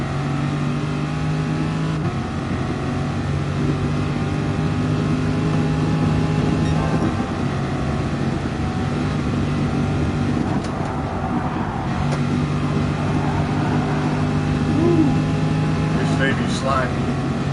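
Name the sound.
car engine accelerating in a PS4 racing video game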